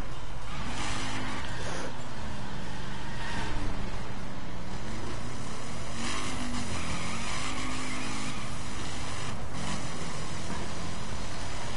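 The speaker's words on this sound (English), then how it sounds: "And that's how you burn out with a car." A car in the racing video game The Crew does a burnout, engine roaring while the tires squeal and skid in repeated loud surges over a constant, dense backdrop.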